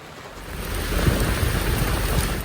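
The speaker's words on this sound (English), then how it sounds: "The rain turned into a storm with small craft advisories up and down the coast." A heavy rainstorm pours over a boat on the coast, giving a loud, dense roar of rain with deep rumbling underneath that swells after the first moment and holds steady.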